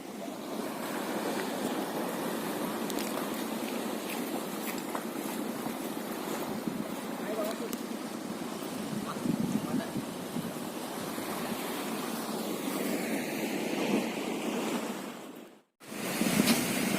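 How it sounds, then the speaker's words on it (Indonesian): Strong waves crash and gusty wind rushes at sea off Onrust Island in the morning, with a loud, continuous churning of surf and blowing air close by before a sudden brief cutout. "ombaknya gila, baratan ngegas, angin ngegas, ombak ngegas"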